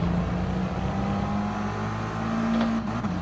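Car engine in GT Sport easing off as the throttle is released, a steady loud drone with a low hum that holds and shifts slightly in pitch, continuous throughout.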